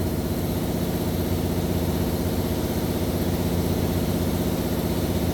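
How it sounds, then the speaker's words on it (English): An air compressor runs with a steady, dense, rumbling drone that holds at an even level throughout, heard in a garage during repair work on a 2004 Jeep Grand Cherokee, with no talking. "turn my air compressor on"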